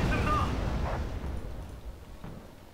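Mortar artillery in the game Wargame: Red Dragon booms with a heavy low rumble that trails off, one or two distant dull blasts rolling underneath, while someone talks over them.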